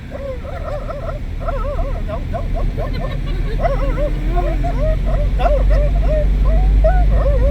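A voice imitates dogs, producing a rapid run of yappy barks, yips and whimpering whines over a constant low background hum, close and fairly loud throughout.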